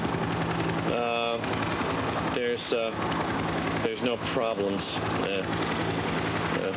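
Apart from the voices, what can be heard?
helicopter flying overhead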